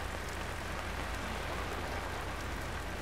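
Steady, even rain pours down continuously, a dense close hiss of drops hitting surfaces with no voices over it.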